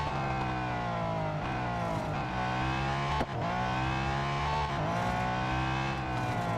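A Lotus race car in the Real Racing 3 video game gives a steady, loud engine drone with layered harmonics and a brief dip in pitch midway, running continuously with no talk.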